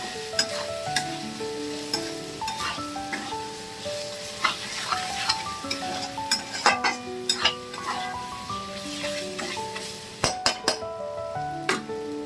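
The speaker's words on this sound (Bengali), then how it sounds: "আমি এখনই এটা দিয়ে চিকেনগুলো ভালো করে মিশিয়ে নিচ্ছি।" Chicken stirred with seasoning in a pan for rice, a steady sizzle under repeated sharp clinks and scrapes of a spatula against the metal, close and fairly loud, with rhythmic stirring strokes.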